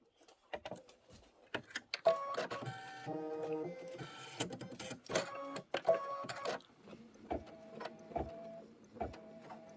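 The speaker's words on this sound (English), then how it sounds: "we're going to do our placement stitch" An embroidery machine sews a placement stitch on fabric in red thread. Its motor whirs and hums in shifting tones, broken by sharp mechanical clicks and thumps, close and steady, with no voices.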